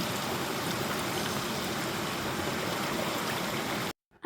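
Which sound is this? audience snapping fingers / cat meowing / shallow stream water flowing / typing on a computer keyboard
shallow stream water flowing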